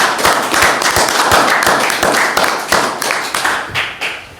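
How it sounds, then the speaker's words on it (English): A crowd at a council meeting on King Island claps steadily for several seconds, dense overlapping hand claps at close range, tapering slightly toward the end. "I'll give Lee another round of applause."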